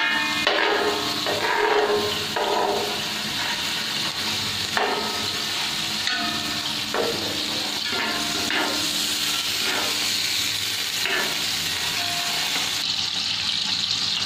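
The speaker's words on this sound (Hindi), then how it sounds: "हमने प्याज को है आयल में गर्म आयल में हमने इसे ऐड कर दिया है। अब हम इसे लाइट ब्राउन होने तक अच्छी तरह फ्राई करेंगे।" Onions frying in hot oil for aloo pulao, a continuous hissing sizzle with scattered stirring knocks, steady and close throughout.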